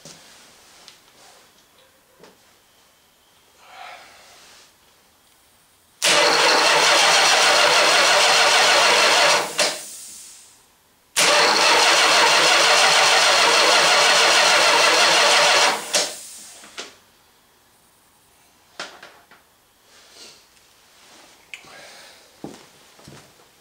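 A Chrysler 1.8 large frame starter cranks an engine in two loud, steady bursts of about four seconds each, separated by a short pause, with faint ticking in the quiet moments before and after.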